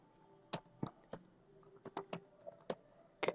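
Someone types on a computer keyboard in a quiet room, sounding close but soft irregular keystrokes over a few seconds with no talking.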